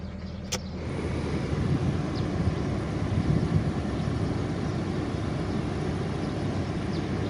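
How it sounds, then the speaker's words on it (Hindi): A single click, then a steady, even whoosh and hum of the air conditioner blowing inside a 2010 Toyota Hiace Grand Cabin high-roof van, constant throughout with no talk. "एसी भी चला के चेक करते हैं"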